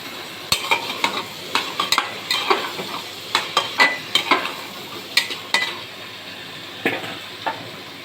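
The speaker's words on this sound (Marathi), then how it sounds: "यानंतर आपण एक गाजर, फ्लॉवर आणि बटाटा कापलाय तो टाकूया." Chopped carrot, cauliflower and potato sizzle in a pan for pav bhaji while a spoon scrapes and clinks sharply against the metal in irregular bursts over a steady frying hiss, with no voices.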